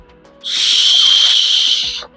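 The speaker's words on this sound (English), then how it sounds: "This whistle is terrible." A single shrill, breathy blast from a plastic survival whistle, held for about a second and a half, loud and close, starting and stopping abruptly.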